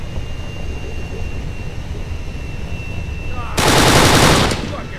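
An airplane starts up in the video game Kane & Lynch 2 amid gunfire: a steady engine drone runs throughout, then a loud, rapid burst of automatic fire cuts in near the end before easing off.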